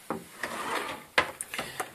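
A wooden drawer in a rental flat's wardrobe in Erzurum slides open with a scrape and a few light knocks and rattles, close and moderately loud, with no talking.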